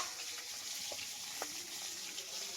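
Cut fish being washed under running water gives a steady, close splashing and trickling stream, with a few soft clinks and no talking.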